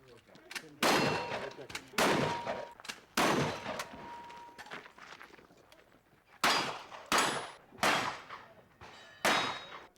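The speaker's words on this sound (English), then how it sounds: "Shooters fire their shotgun, rifle, and pistols and must hit the targets in the order of each particular match." Shotgun, rifle and pistol shots ring out at a shooting match, a series of sharp loud cracks spaced irregularly, some in quick pairs, with quieter background between bursts.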